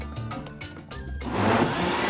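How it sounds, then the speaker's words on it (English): A kitchen blender whirs through asparagus gazpacho soup made with ranch dressing and olive oil, a close, steady motor drone that rises to a louder, harsher grinding roar partway through. "Our gazpacho is blended up nice and smoothly in our blender."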